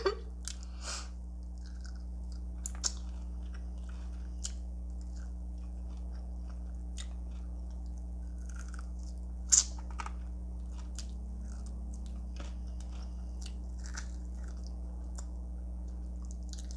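Close chewing and crunching on Flamin' Hot Cheeto fried chicken wings, a sparse series of soft bites and crisp crunches over a low steady hum, with no talking.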